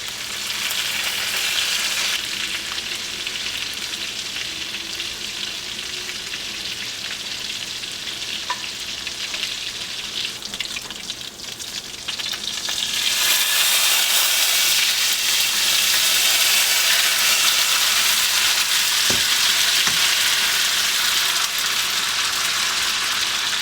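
Pasta tossed into a pan with seafood sizzles and fries loudly, a steady hiss that swells louder partway through, with faint stirring scrapes and no talking.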